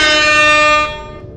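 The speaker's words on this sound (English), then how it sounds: "otherwise he will get in your face with an air horn, agitating sound-sensitive animatronics" Helpy from Ultimate Custom Night blasts an air horn, one loud sustained honk that cuts off and decays after about a second.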